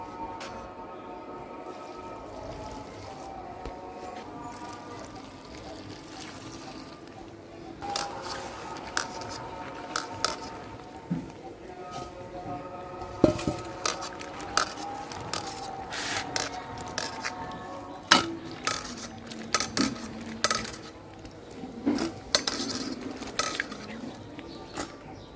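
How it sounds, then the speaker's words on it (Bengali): Local desi boroi (jujube berries) are washed by hand in water in a bowl, giving soft splashing, scraping and clinking sounds that come in irregular bursts, faint and close, over a steady low background. "এখন ধুইয়া নিই।"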